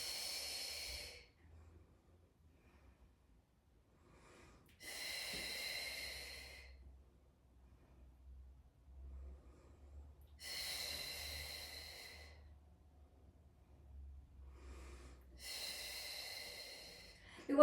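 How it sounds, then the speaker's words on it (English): Slow, deliberate breathing during a beginner weight-lifting exercise: four long, airy breaths spaced about five seconds apart, close-miked, with quiet pauses and a low hum between them. "We exhale up. We inhale, slowly lower."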